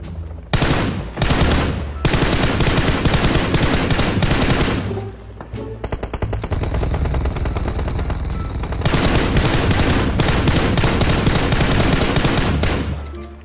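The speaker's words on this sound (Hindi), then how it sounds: "इनको मैं M416 से मारता हूँ।" An M416 assault rifle fires in PUBG's Payload mode: loud, close automatic bursts rattle almost continuously, with brief pauses between strings of shots and no talking.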